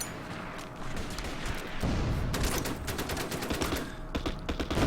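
Massed gunfire from units exchanging fire in the wartime strategy game Order of Battle: Endsieg, a dense crackle of shots and bursts rising after the first two seconds and continuing steadily, no talk.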